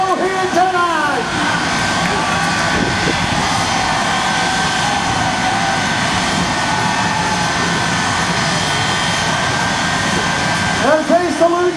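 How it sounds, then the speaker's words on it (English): A Shockwave jet truck at an Eve of Destruction event at Lucas Oil Speedway in Wheatland, Missouri, roars steadily for the whole stretch, its jet engine loud and close above crowd noise. "Get ready for him to hit the afterburners."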